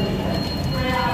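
Inside a moving passenger train, a steady rumble and rattle of wheels and carriage fill a brief moment, loud and continuous.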